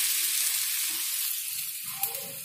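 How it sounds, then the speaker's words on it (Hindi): Chilli bhajji fritters coated in thick besan batter sizzle in hot oil, a steady close hiss of frying with a small pop near the end and no talk. "और गरम तेल में इसको डाल देंगे"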